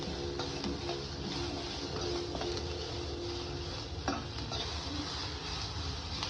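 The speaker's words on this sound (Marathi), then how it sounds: "त्याच्यामध्ये थोडंसं तेल ॲड करा आणि त्याच्यामध्ये जो मी कांदा कापलाय तो त्याच्यामध्ये मी ॲड करते. म्हणजे तो चांगला लालसर भाजून घेते." Chopped onion frying in oil until reddish, a soft continuous sizzle with occasional stirring and faint utensil clicks, fairly quiet and steady with no talking.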